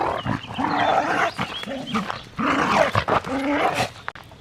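Dogs barking and growling close by, overlapping bursts of excited barks and yelps that repeat in quick succession.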